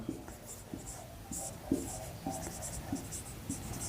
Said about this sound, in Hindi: तो ऐसा लिखेंगे